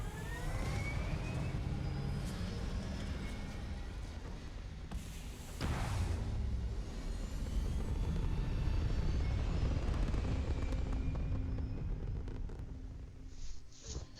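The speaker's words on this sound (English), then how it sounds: "All thrusters firing." Spaceship thrusters fire in the Starfield game, a continuous heavy roar with deep rumble and whooshing sweeps that swells partway through and holds steady, close and loud.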